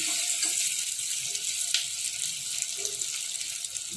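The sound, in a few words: oil heating and sizzling in a pan for spicy mutton liver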